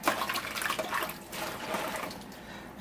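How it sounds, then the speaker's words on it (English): Running tap water pours steadily into a kitchen sink as a small cabbage is rinsed under it, making a close, continuous splashing rush for about three seconds with no talking. "I'm just going to rinse off the cabbage in the sink."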